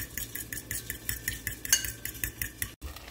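Two cracked eggs are beaten in a bowl with a utensil, giving quick rhythmic clinks and taps against the side, close and fairly loud, with a brief gap near the end.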